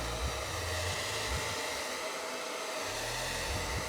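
A hair dryer blows on wig glue during a wig install, giving a steady, close, continuous airy whoosh with a low motor hum that runs unbroken throughout.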